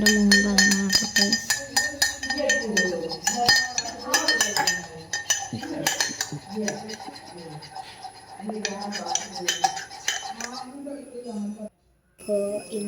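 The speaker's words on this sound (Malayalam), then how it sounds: "അതുവരെ നമുക്ക് ഇളക്കിക്കൊണ്ടിരിക്കണം." A spoon stirs a creamy milk drink in a metal pan, clinking and scraping against the sides in a steady, close, busy rhythm, with brief pauses.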